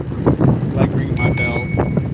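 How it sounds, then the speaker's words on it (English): Two quick rings of a bicycle bell on a neighborhood street ride, bright and close, over wind noise and someone talking. "Like ringing my bell when I see the neighbors out."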